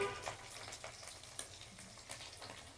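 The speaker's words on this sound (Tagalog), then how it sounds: "Ang ating pinipiritong pingka na isda" Ribbon fish fry in a pan, a steady, quiet crackling sizzle with small irregular pops and spatters throughout.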